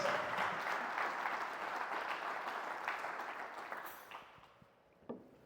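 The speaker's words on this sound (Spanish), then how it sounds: "vamos a dar una ofrenda de palmas" Congregation at a church teaching session on the Holy Spirit gives a sustained round of hand-clapping, loud at first and slowly thinning out, with a few scattered final claps near the end.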